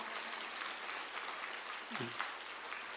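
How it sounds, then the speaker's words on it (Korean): A church congregation applauds with a dense, even patter of many hands clapping, and a brief voice surfaces midway. "박수 한번 칩시다"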